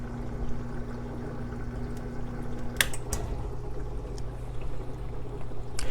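Water draining back down into an aquarium sump after the return pump is switched off, a faint trickling and pouring under a low pump hum that cuts out partway, followed by a few small drips and splashes.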